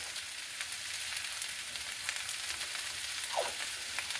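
Squash, zucchini, onions and potatoes fry in a pan over medium-high heat with a steady, close hiss and crackle, plus a brief scrape of stirring near the end.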